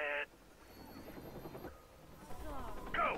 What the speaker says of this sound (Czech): Now what about these helicopters?